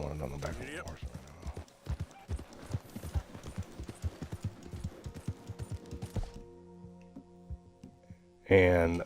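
Horse hooves clip-clop in a steady, fairly loud rhythm for several seconds in a hunting video game, with a streamer talking over them before the sound cuts out.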